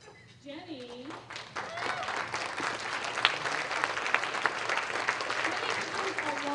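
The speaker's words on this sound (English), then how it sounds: "deserves a lot of applause." Audience applause at a national summit against fracking, starting faintly and swelling into steady, sustained clapping from a sizeable crowd in a hall, with some voices mixed in.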